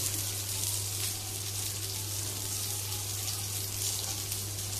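Asafoetida sizzles in hot oil in a pan, a steady loud hiss with a low hum beneath, continuous and close with no talk.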